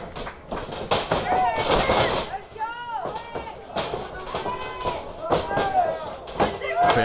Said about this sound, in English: Pump handles JF and slams him